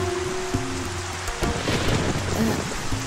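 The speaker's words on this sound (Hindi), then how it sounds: "इतना बारिश हो रहा है" Heavy rain pours steadily on a rural village road during a storm, a dense continuous hiss with a few louder splashes and a low rumble partway through, no voices.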